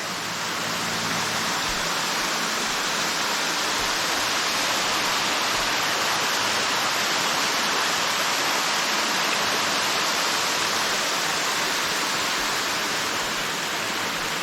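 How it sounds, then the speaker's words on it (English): Small Andrew Ramey Falls on the Fall Creek Falls Trail pours in a steady, full rushing hiss that stays even and close throughout, with no voices over it. "So this is Andrew Ramey Falls, and it's small."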